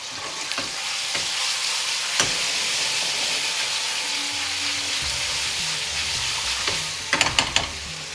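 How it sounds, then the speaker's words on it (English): Ginger garlic paste sizzles and fries steadily in hot oil in a restaurant-style pan, a dense continuous crackle with a few sharp clinks and scrapes of stirring near the end. "Right, so now I'm going to add the ginger garlic"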